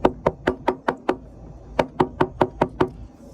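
Knocking on a door in two quick bursts, six sharp raps, a pause, then six more, close and loud with no one talking.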